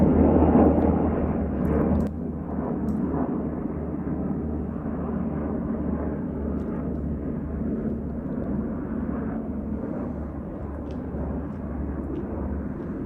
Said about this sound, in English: Here is a helicopter potentially chasing a drone.